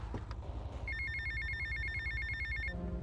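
A telephone rings in GTA Vice City, a steady electronic trill repeating for about two seconds over a low, constant game background, with no talking.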